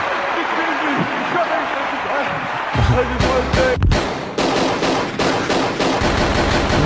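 In a film scene, soldiers open fire on a clapping crowd: after a stretch of talk, loud bursts of rapid gunfire break out, with repeated sharp shots and short gaps, while voices continue underneath.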